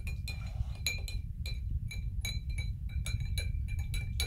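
A spoon stirs bleach solution inside a glass container, making repeated bright clinks against the glass in an irregular rhythm over a low background rumble, close and clear.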